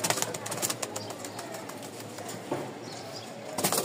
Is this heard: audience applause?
no